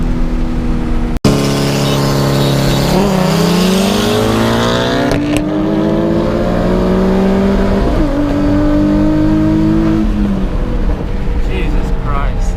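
A Nissan 350Z and a Mitsubishi Evo X race side by side, engines revving hard and climbing through the gears in loud rising sweeps, with a sharp click near the start and road and wind rush throughout.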